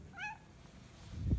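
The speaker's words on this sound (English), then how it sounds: "no trip to the barn would be complete without the crazy barn cat" A barn cat gives a single clear meow near the start, followed by rustling and a low thump toward the end, with no speech.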